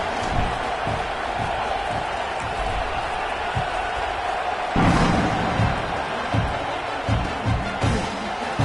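A large football stadium crowd in Oklahoma murmurs steadily at kickoff after a deflating score, a broad, distant roar with scattered shouts and one brief swell.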